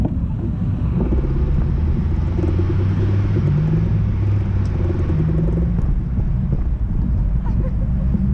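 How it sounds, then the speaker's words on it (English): Light midday car traffic on a road in Brookline Village, a steady low rumble of passing vehicles with some wind noise, continuous and moderately loud throughout. "Car traffic is light, even though this is midday on a Wednesday in May."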